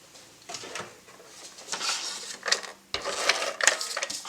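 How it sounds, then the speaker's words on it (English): A tape runner lays adhesive onto a card base for a 3D frame card, making a few soft, close rasping and clicking bursts over about four seconds, with no voices. "I'm going to use my tape runner."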